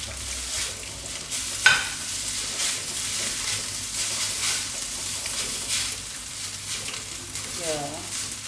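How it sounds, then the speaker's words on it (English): Vietnamese rice noodles frying in a pan while being stirred, a steady sizzle with scraping spatula strokes throughout and a sharp clink near the start. "Stirring this way."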